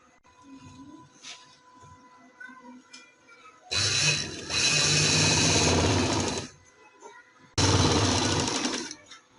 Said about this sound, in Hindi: इन दोनों का हम इस तरह सिलाई लगा लेंगे।